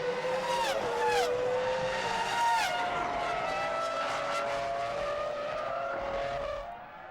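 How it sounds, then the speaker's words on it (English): A Formula One car from the 2003 season exits the pit lane and loses its rear: a loud high engine note falls and rises through gear changes alongside other engine sounds, with a commentator talking over it. "Ralph exits the pit lane into the path of Alonso and loses the back of the car"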